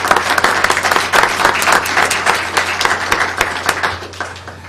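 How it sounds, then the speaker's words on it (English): A room at a board of education meeting applauds student science winners. Close, fairly loud clapping with distinct individual claps stands out in an uneven rhythm for almost five seconds. "Let's give them a round of applause"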